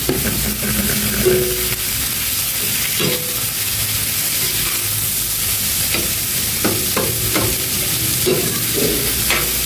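Sliced bitter gourd (ampalaya) goes into a hot pan with onions and fries with a loud, steady sizzle. Scraping and clinking from stirring come through at intervals, with no talking.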